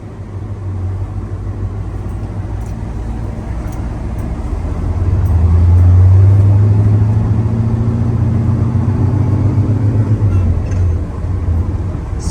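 GM square body pickup truck, a leaf-sprung 4-wheel-drive, driving along with a loud, steady engine drone that swells midway as it pulls harder, heard from inside the cab.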